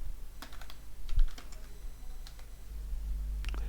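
Computer keyboard keys are tapped in short, irregular bursts of crisp clicks while entering a code dependency, with quiet pauses between groups; no talking.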